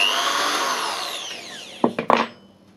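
A power drill bores through a rod for homemade stilts, its motor whining loudly and steadily, then winding down, followed by a few sharp knocks and clatters near the end.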